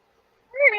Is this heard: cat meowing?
yes